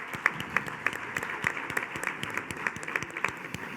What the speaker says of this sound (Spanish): Lo primero que les dedicamos es un aplauso a ustedes.